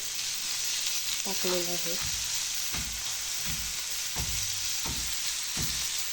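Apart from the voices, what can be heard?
tomato being sautéed in a pan for thecha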